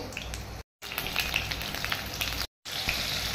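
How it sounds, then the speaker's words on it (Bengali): Potatoes fry with a little salt in mustard oil in a wok, giving a steady close sizzle and crackle with two brief dropouts. "কড়াইয়ে তেল দিলাম, সর্ষের তেল, আলুটা ভেজে নেব একটু লবণ দিয়ে।"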